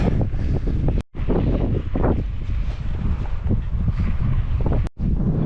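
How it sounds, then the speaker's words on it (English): Strong spring wind in New Mexico on a bikepacking trip, loud gusting roar buffeting the microphone continuously, with two brief dropouts. "We got the typical spring weather in New Mexico with the wind"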